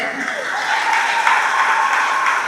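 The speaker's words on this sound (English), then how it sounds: "A big applause to her parents," Audience applause at a felicitation function for cricket captain Harmanpreet Kaur at Sathyabama Institute, steady broadband clapping from a large crowd filling the room, swelling slightly and holding loud throughout, with faint voices mixed in.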